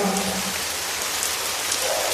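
Steady rain pours down on a cartoon bird's home outdoors, a dense continuous hiss with no pauses, fairly loud and without voices.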